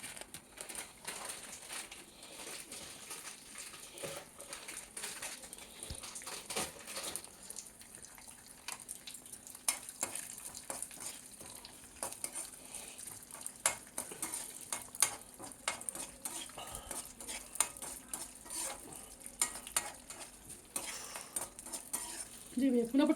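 Flax seeds roasting in a pan while being stirred, with a continuous scatter of small crackles, taps and scraping clicks, steady and close, alone without voices.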